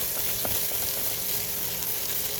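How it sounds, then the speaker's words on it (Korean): A pork neck steak sizzles steadily in butter in a hot pan, a dense continuous crackling hiss that is close and even, with no talking over it. "남은 버터를 다 넣어서 고기에다가 버터의 풍미를 더 입혀주시는 거예요"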